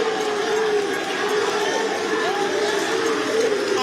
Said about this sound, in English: and the thunderous applause from the auditorium.